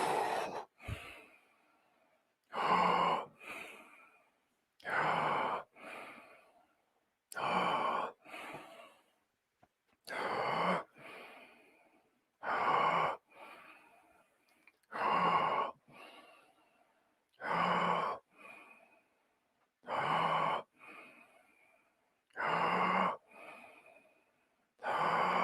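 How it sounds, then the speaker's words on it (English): Slow, deep breathing during a guided breathing exercise, with long audible inhales and exhales coming in an even rhythm of about a dozen breaths, close and alone with no talk. "Breathe in all the way. Exhale a little bit."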